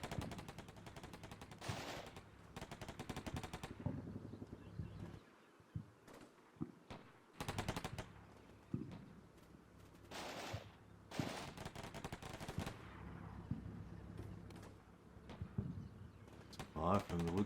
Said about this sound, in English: We just have to provide some kind of covering fire.